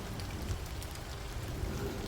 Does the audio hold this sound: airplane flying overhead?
no